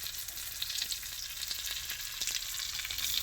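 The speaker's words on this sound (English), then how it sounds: "add my potatoes right on top" Sweet potatoes fry in hot grease in a pan with a dense, steady sizzle and crackle throughout, close and fairly loud, with faint utensil taps underneath and no talk.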